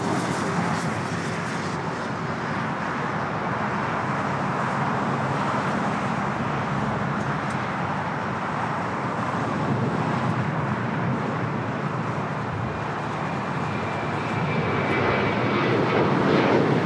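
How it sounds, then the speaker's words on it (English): Philippine Airlines Boeing 777-300ER jet taking off from Los Angeles airport, a loud, steady broadband engine roar that holds for the whole stretch and swells slightly near the end, with no voices. "Philippine Airlines Flight 113 taking off to Manila on the 777 300ER"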